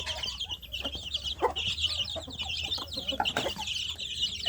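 Young free-range kampung chicks crowded in a box cluck and peep busily, a dense, continuous chatter of high chirps heard close up.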